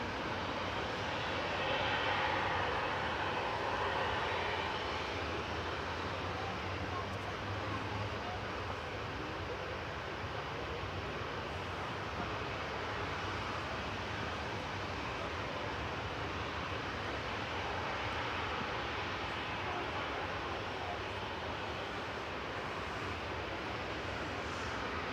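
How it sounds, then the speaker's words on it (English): An Egyptair Airbus A321neo, about a year old, arriving from Cairo on its second approach to Manchester Airport, makes a steady, fairly loud jet roar that holds broadly throughout with wind-like rushing. "Egyptair's on its second approach here."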